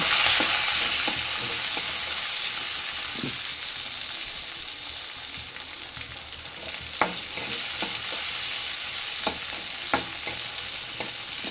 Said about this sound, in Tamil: பெரிய வெங்காயம் ஒன்று ரெண்டு பச்சை மிளகு ரெண்டு துண்டு இஞ்சி ஒரு பத்து பல் பூண்டு இதையும் இது கூட சேர்த்து கிண்டணும்